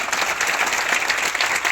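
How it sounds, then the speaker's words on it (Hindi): Loud, dense audience applause fills the hall as a crowd claps for senior leaders, a steady continuous wash of many hands throughout. "वो सभी लीड सीनियर्स के लिए एक बार जोरदार तालियां फ्रेंड्स"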